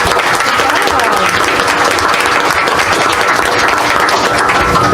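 An audience at a county school board meeting applauds two teachers, steady dense clapping filling the room for the full stretch, with some background voices mixed in.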